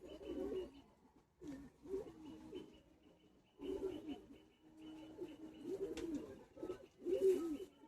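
Madrasi and Giribaz pigeons coo in a loft in soft repeated bursts with short pauses between them. The sound is fairly faint and has no talk over it.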